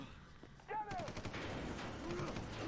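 Gunfire from the video game Prototype: a burst of rapid shots and whizzing effects, fairly faint, in a short noisy game scene.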